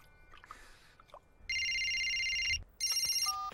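A cartoon telephone rings in two loud, bright electronic bursts with a short gap between them, after some faint scattered sounds.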